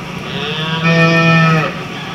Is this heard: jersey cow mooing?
yes